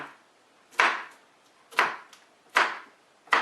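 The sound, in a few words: chopping peppers with a knife on a board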